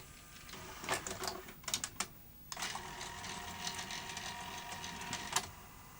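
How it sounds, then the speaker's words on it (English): A Sanyo Beta HiFi VCR taking in a tape: clattering mechanical clicks and whirring as the cassette loads, then a steady motor hiss, close and moderately loud. "let's pop a tape in"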